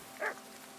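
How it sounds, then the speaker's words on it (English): A single short dog bark from a video game, mid-level and alone against a quiet background hum. "What are you barking at, puppy?"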